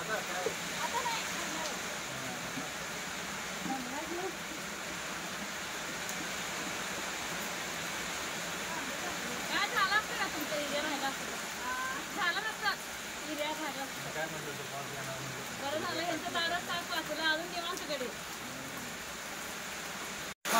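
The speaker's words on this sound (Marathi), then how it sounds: "भरपूर असं पाऊस पडतोय" Heavy monsoon rain pours steadily over a farm field while a roof gutter runs full, a constant broadband wash with a few louder spatters, and voices murmur faintly underneath.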